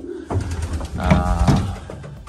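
Pigeons coo close by in a breeding loft during a bitter cold Canadian winter, soft throaty rolling calls repeating over a low background murmur.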